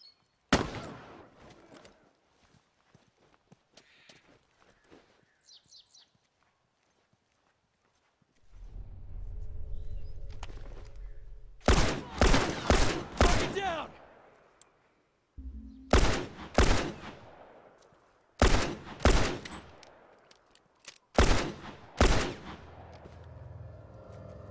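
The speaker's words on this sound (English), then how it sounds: "Rifle." Rifle fire in The Last of Us Remastered multiplayer, several loud sharp shots in quick bursts with echoing tails, separated by quieter stretches of footsteps and rumbling ambience.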